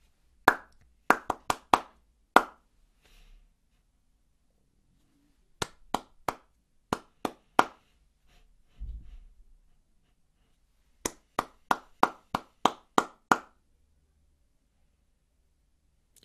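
Children in a KS2 classroom clapping rhythm patterns: sharp, crisp hand claps in short groups of four or five, separated by pauses, with a final longer run of quick claps; no talking.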